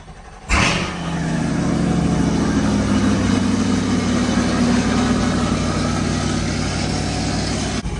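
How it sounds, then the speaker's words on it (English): A C8 Corvette engine starts up and then settles into a steady, loud idle with a low, even rumble that holds for several seconds, and no one speaks. "you have to have the car running"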